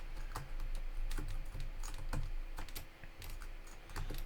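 Rapid typing on a computer keyboard with a sticky A key, a steady run of close, crisp key clicks with brief pauses, no voices.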